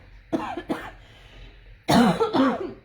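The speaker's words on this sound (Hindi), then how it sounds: "ज्यादा शुरू होगी खांसी ना, तो जाना पड़ेगा ऐसे" Coughs come in short, separate bursts, two quick ones and then a louder, longer fit close to the mic, in a fairly quiet room.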